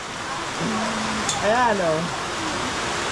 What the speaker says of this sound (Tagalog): Grabe lakas ang ulan, ngayon lang.